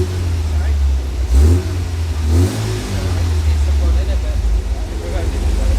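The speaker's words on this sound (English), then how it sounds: "it's probably one of the smoothest sounding B engines I've heard" Engine of a 1977 MGB Roadster fitted with a tubular exhaust manifold, running with a low steady rumble and a couple of brief blips of revs, while people talk close by.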